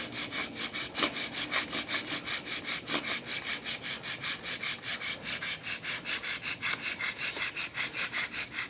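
A primitive bow drill spindle is worked rapidly back and forth against a wooden baseboard, producing a steady, close rhythmic scraping and rubbing with regular strokes and no talking.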